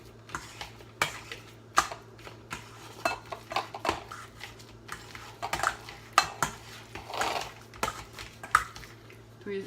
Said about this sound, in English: I need a potato masher. That's easier than a fork. So we mash it really good.